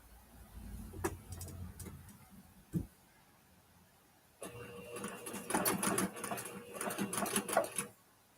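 A sewing machine stitches fabric in a quick, steady mechanical whir with ticking, near and moderately loud. It follows a few scattered taps and a quiet pause and runs on its own.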